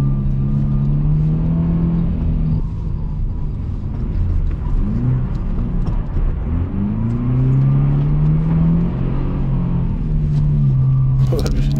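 Subaru Impreza 2.0R driving on snow in low-range gear, with a steady drivetrain whine and rumble that rises and falls in pitch over the whole stretch, loud and close, ending with a brief bright burst.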